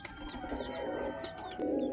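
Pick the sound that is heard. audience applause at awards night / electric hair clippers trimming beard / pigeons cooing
pigeons cooing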